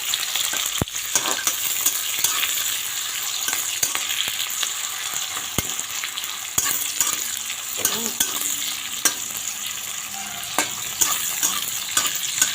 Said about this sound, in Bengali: এখন এটা একটু ভেজে নেব।